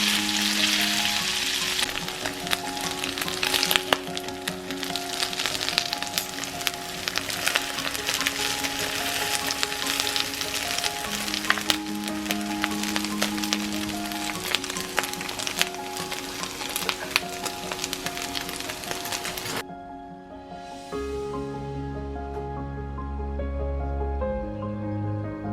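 Shredded carnitas pork frying until crispy in a pan sizzles loudly and continuously for about twenty seconds before the sound thins out and shifts, with a soft tonal layer running beneath and no voices.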